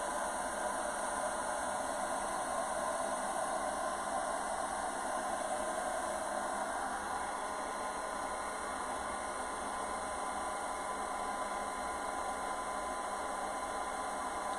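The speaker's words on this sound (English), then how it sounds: "So this is my old hair dryer." A steady, even blowing hiss with a low motor hum runs unbroken from start to finish, like a hair dryer running at a constant setting close by.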